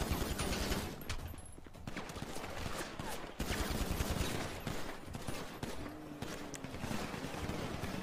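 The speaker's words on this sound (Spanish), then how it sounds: "Me disparan." Dense gunfire in a Grand Theft Auto roleplay shootout after a robbery: sustained bursts and overlapping shots, loud and continuous with a brief dip in the middle.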